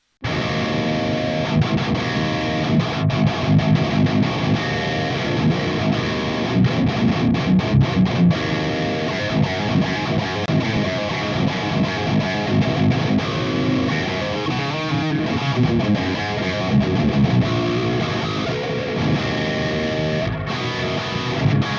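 Heavily distorted metal guitar through an Audio Assault AHM 5050 amp model, lead channel, 6L6 power tubes, default cab and noise gate, playing chugging riffs loud and continuous with no talk.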